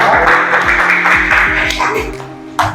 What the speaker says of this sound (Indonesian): Tepuk tangan untuk kelompoknya dan kawan-kawan.